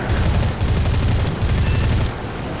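Sustained machine-gun fire from a Hurricane Mk IIB fighter in War Thunder arcade combat, a loud, rapid, continuous rattle in three long bursts with brief gaps, alone without talk.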